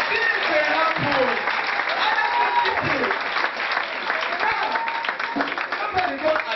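Audience clapping at a comedy show: dense, steady applause filling the whole stretch, with a voice talking over it.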